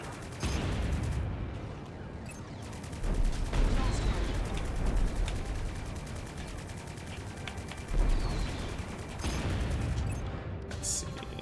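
A flak cannon fires at enemies in the space combat game Strike Suit Infinity, a dense, continuous rumble of rapid bursts and booms with louder surges, close and steady throughout.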